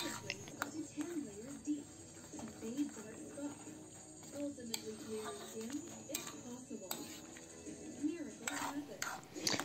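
A metal spoon scrapes and clinks around a pot as dinuguan cooked with pineapple tidbits is stirred, giving soft irregular knocks and scraping over a quiet simmer, with brief faint talk in the background.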